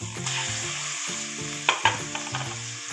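Tomato and ginger sauté in a pan for an upo dish, a continuous close sizzle broken by rhythmic scraping stirs and a couple of sharp utensil clinks.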